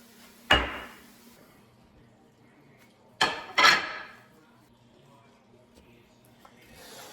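A chicken and rice dinner is plated, with three sharp clinks of utensils against dishes, one early and two close together later, in a quiet kitchen.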